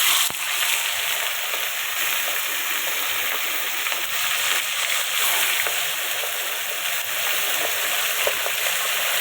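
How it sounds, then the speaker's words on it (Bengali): Marinated fish fries in a kadai, giving a steady, close, crackling sizzle that stays at an even loud level from start to finish with only faint pops. "দেখুন মাছটা আমি ভাজছি।"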